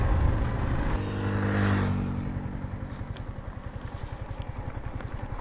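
Yamaha MT-15 motorcycle riding slowly along an unpaved dirt road, its engine putting along in a steady low-revving pulse, fairly close and loud throughout with some clatter early on.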